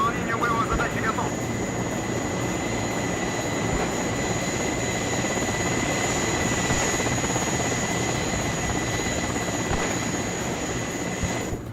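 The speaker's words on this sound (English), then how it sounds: "the chopper sounds are spot on" A military helicopter in the Cold War real-time strategy game Wargame: Red Dragon, its steady rotor and turbine drone loud and constant throughout, with a high whine running on top.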